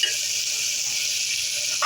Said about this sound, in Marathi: आता आपण टोमॅटो टाकून घेऊया आणि चांगलं परतून घेऊया